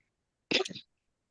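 A single short cough, close and fairly soft, in otherwise quiet surroundings.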